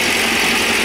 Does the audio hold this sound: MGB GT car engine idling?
yes